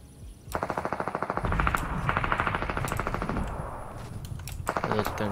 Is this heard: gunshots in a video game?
yes